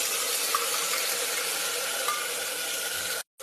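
Onion paste frying in hot oil with spices in a cooker, a steady, loud hiss and sizzle throughout that cuts off abruptly near the end.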